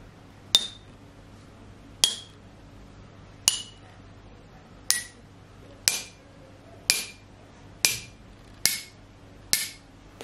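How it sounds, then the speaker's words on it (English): Tonewood xylophone keys of walnut and sycamore struck one at a time, nine sharp, short strikes at an even, unhurried pace, each with a quick bright attack and a brief decay, close and clear with no talking. "the sound that I was expecting them to make, which was, as I said at the start, more mellow, more rounded, was certainly being demonstrated as I struck the keys"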